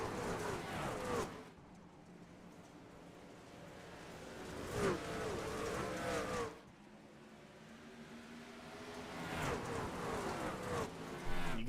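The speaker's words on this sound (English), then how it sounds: "let's just listen to these trucks. They sound great here on the dirt." Trucks racing on a dirt oval at Bristol in the iRacing sim, engines droning and surging as the pack sweeps past in repeated waves, loud close passes separated by quieter stretches, with faint commentary voices underneath.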